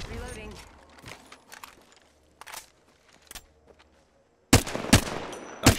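Gunfire in the Apex Legends video game on the Kings Canyon map, with several sharp shot bursts spread through the clip and a louder volley near the end, while players talk over it.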